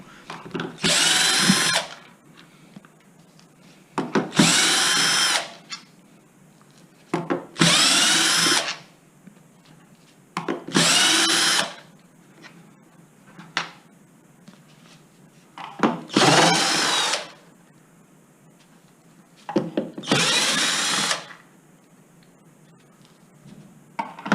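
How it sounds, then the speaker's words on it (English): An electric screwdriver or drill whirs in six short bursts, spaced a few seconds apart, while screws are backed out of the motor cowling on a Zip X5. Between bursts there are faint handling clicks, and no one speaks. "Each screw that I remove I'll put into the foam in the same pattern so that I know which way to reassemble."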